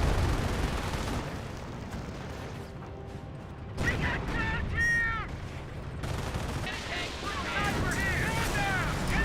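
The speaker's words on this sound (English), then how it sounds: "Fallschirmjägers now getting hit by the Calliope as well." Calliope rocket artillery barrage in Company of Heroes, a World War II strategy game: dense rumbling explosions and gunfire roll continuously, with bright whistling and screeching streaks rising above the din midway and near the end.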